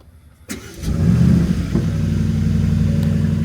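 An Aston Martin Vantage engine starts after quiet cabin silence, catching with a sharp burst and then settling into a loud, steady idle rumble close by.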